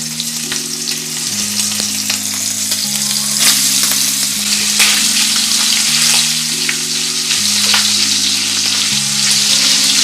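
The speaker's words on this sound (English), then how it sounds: "I'm gonna add the sausages. We're just gonna fry up these." Smoked beef sausages fry in a pan with cabbage and bacon cooking, a steady close sizzle with occasional crackles and stirring scrapes, no voices.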